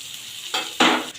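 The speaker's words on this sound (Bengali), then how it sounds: "এখন ফ্রাই প্যানে পেঁয়াজ ভাজার জন্য প্রস্তুত হয়ে গেছি এখন আমরা পেঁয়াজটা ভেজে সব ময় মশলা দিয়ে দেব" Onions sizzle in a frying pan for a mutton curry, a steady hiss that swells twice with bursts of louder frying or stirring, close and with no voices.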